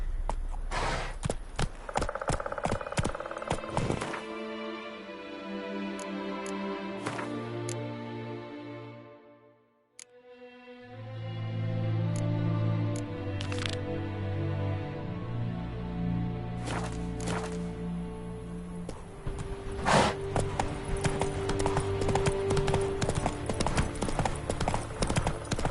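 Roach, a horse in The Witcher 3, gallops with close, rhythmic clip-clop hoofbeats that briefly fade out and return, set against sustained tonal game music and a short spoken line.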